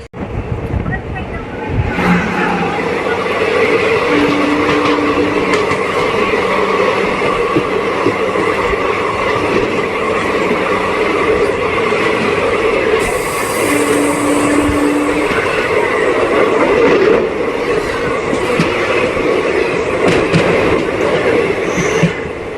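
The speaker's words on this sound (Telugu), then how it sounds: "మన ట్రైన్ వచ్చేసండి పెరంబూర్ రైల్వే స్టేషన్ అయితే స్కిప్ చేస్తుందండి" The Sapthagiri Express runs through Perambur station in Chennai without stopping, a loud, steady rolling rumble with wheel clatter and two brief horn-like tones, heard under some voices.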